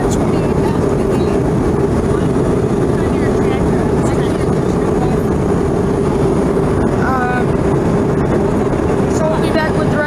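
A steady, loud roar of jet engines and airflow fills the cabin of an American Eagle Embraer E145 regional jet cruising at 28,000 feet. The drone holds level throughout with no pauses.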